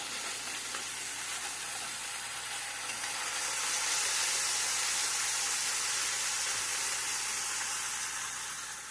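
Sausage sizzles in a frying pan during home pancake cooking, giving a steady bright crackling hiss that swells slightly midway and then eases, with no voices.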